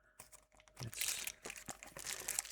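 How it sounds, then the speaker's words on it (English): Plastic bubble wrap packaging is unwrapped and pulled open from a parcel holding computer RAM, giving close, irregular crinkling and rustling bursts that build through the second half, with a quiet start and no talk. "see if we can get into this bubble wrap"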